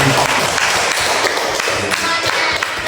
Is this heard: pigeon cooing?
no